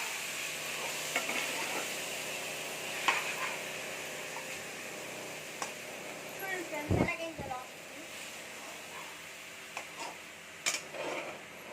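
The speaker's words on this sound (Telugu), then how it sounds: "దీంట్లో నేను 5 minutes ఆనియన్స్ కుక్ అవ్వాలి" Onions frying in oil in a pan, heard as a steady close sizzle with occasional stirring scrapes and clicks of a utensil against the pan.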